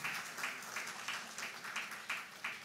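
An audience at a results announcement for the Grade Six National Assessment applauding schools, a rhythmic round of clapping with regular swells, fairly faint and distant in a large room.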